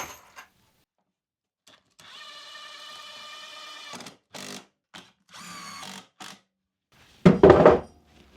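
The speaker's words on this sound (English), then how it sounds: "So I'm just going to get some screws in, and I have some decking screws as this is going to be an exterior project." A power drill drives decking screws into wooden frames for an outdoor workbench, two sustained whirring runs separated by short bursts and pauses, close and alone with no talk.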